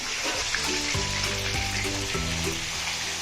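Koramenu river fish pieces fry in oil village style, a steady dense sizzle running throughout with low clattering tones from the pan underneath.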